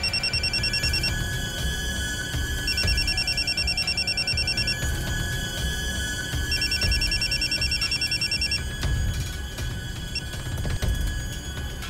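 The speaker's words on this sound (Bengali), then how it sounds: "তারপর আমি ওয়াসিমের নাম্বারে ফোন করলাম" A telephone rings in repeated electronic bursts during a call, the ringtone pattern starting and stopping several times over a steady background, with no talking.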